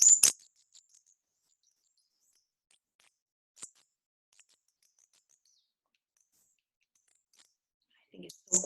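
An Audubon twist bird call gives short squeaky chirps that imitate a songbird. A bright burst opens the clip, faint scattered peeps follow, and a louder squeak comes near the end.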